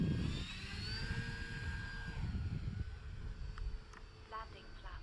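An E-flite Draco RC airplane flies through an afternoon sky with a thin, droning motor whine that rises and falls as it passes, over outdoor rumble.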